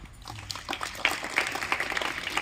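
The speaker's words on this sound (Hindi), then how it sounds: "ताली बजा दो।" Children clap together at a tribal museum in Gumla, Jharkhand, producing a brisk patter of many overlapping hand claps at moderate loudness, growing denser after the first second.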